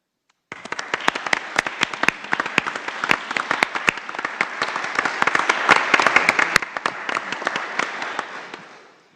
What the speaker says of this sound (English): let us honor you with a round of applause